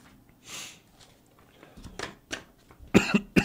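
A live talk-show host coughs into a nearby microphone, several rough bursts that grow louder and closer together, ending in a hard, strong cough.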